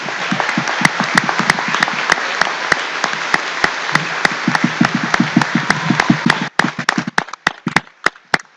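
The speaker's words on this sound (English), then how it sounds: "If we could give them a round of applause." A graduation ceremony crowd claps steadily in sustained applause that thins out near the end into a few scattered individual claps.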